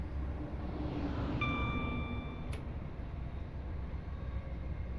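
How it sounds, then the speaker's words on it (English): An overground train on the Milton Keynes to Euston line in Train Sim World 5, a steady low rumble of rolling wheels with brief tonal chime-like notes and a sharp tick midway. "There's another overground train on the left."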